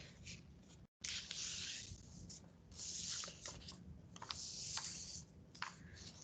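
A sheet of paper is folded in half vertically for a hand-drawing lesson, giving close, crisp rustling and creasing bursts that repeat over several seconds, broken by one brief silent gap.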